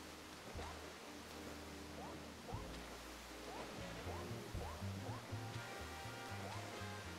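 A waterfall in the platform video game Super Mario 3D World rushes as a steady broadband roar, with game music and light effect chimes layered over the constant wash.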